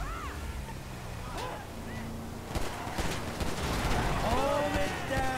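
Gunfire in Grand Theft Auto V, sharp shots scattered through a busy game mix of honking, chirpy effects and background noise, with people talking over it.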